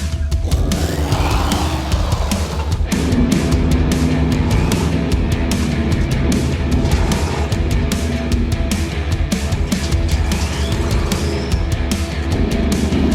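A V8 muscle car launching in a drag race, its engine a loud continuous roar with rising tones as it accelerates away, heard steadily throughout without talk.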